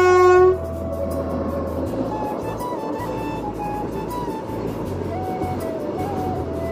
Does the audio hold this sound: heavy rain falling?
no